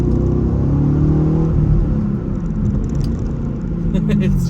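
A 2010 Chevrolet Camaro SS with a manual gearbox and LS V8 engine pulls hard, its loud, steady low rumble filling the cabin throughout, with a faint voice speaking beneath the engine note.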